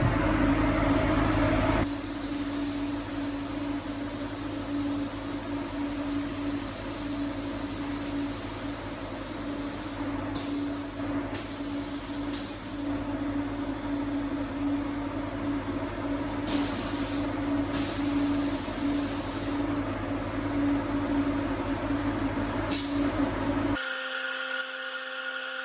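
A spray gun lays clear coat onto a 1968 Mustang in a shop, giving a steady close hiss over a low hum, with several brief bursts where the trigger flow changes before it abruptly stops.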